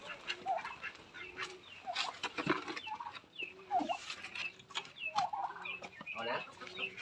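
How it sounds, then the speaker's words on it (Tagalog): Chickens cluck and chatter on a farm in a busy, overlapping flock, with sharp calls scattered throughout at a modest distance; a faint voice is occasionally heard underneath. "O doon tayo sa mga mga manok."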